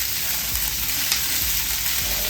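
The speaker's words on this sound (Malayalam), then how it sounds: "ഇതെല്ലാം നല്ലതുപോലെ ഒന്ന് വഴറ്റിയെടുക്കാം." Chopped onion and a large tomato sautéing in a hot pan on a gas stove, a steady close sizzle and crackle with soft stirring scrapes running throughout, no voices.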